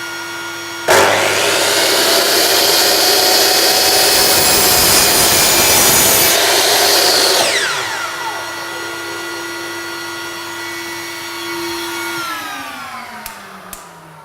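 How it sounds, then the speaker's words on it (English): Chop saw motor spinning up with a sharp whine, then a gentle steady cut through wood for several seconds before the blade winds down and coasts to a stop. "One of the things that you get wrong with a chop saw is cutting too fast."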